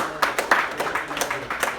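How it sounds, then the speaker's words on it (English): A small group in a lecture or training session claps briefly for a participant, scattered hand claps of modest loudness with a slightly uneven rhythm, no talking over them. "let's give a little applause there"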